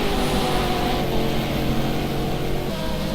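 GT3 race cars in a sim racing game at the Brno circuit, their engines forming a steady, dense, continuous drone with layered tones and no break over a few seconds.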